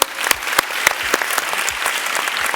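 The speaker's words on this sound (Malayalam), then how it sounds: "എല്ലാവരും ചേർന്ന് എസ്തറുട്ടിക്ക് ഒരു കൈയടി കൊടുത്തേ" A live audience at a comedy show launch event gives a young girl singer a dense, loud burst of clapping that stays steady throughout, with no voices over it.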